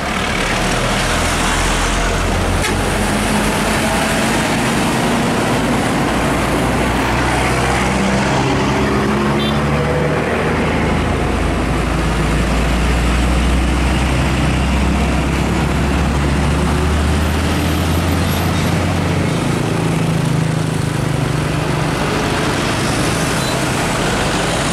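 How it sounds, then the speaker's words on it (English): A Hino trailer truck pulling a container roars past on a road, a loud steady engine drone with shifting low rumble and wind noise throughout, no talking. "Gandengan Hino, di belakangnya kontainer multi sukses."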